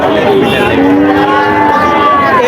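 Several cattle moo loudly and close by at a cattle market in Chuadanga, Bangladesh, overlapping drawn-out calls rising and falling over a busy crowd murmur.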